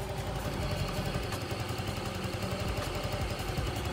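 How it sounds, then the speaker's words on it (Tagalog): A vehicle engine runs with its cover removed, giving a steady, continuous idling rumble with a low vibrating drone throughout, close and even in level with no talk over it. "parang may naririnig kang sound ng makina"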